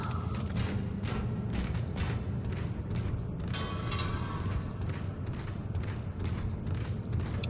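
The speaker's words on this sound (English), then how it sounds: "I'm gonna load all my guns" Gun reloading and weapon-handling mechanisms in the survival horror game Dead Space 2, a steady run of clicks, clacks and metallic knocks over a dense, booming game soundscape, with no talking.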